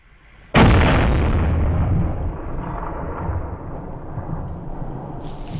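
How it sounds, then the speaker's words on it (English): A double rifle fires once during a lechwe hunt in the Caprivi, a single sudden loud blast up close that rolls into a long, slowly fading outdoor echo. "So the shot hit spot on."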